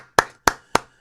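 One person claps four times, close and crisp, each sharp smack evenly spaced with brief silence between, with no other sound.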